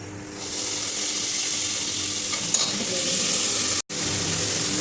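Tomatoes tipped into a pan of frying onions and green chillies set off a loud, steady close-up sizzle that barely breaks off for a moment near the end.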